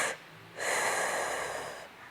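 A Pilates exerciser exhales forcefully through the mouth, first a short breathy puff, then a long, steady, airy breath out lasting over a second, close and fairly loud, with no talk.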